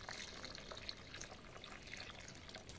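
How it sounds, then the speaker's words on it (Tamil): Water is poured over soya chunks to soak them for a chilli soya dish, making a faint, steady trickle and splash with a few small drips and no speech. "இப்போ நம்ம இந்த மீன் மேக்கரை சோயாவை தண்ணி ஊற்றி ஒரு கால் மணி நேரம் ஊற வைக்கலாம்"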